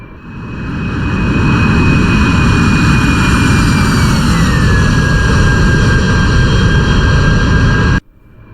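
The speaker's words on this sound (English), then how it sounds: "I'm just going to let the aircraft slow down" An AV-8B Harrier jet engine in the DCS World flight simulator roars loud and steady while the aircraft slows, with a high whine that drifts lower midway, then cuts off abruptly at the end.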